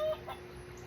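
Toy hen sound from a talking farm-animal book or toy: a single short, faint electronic cluck at the start, then a quiet hum of background noise.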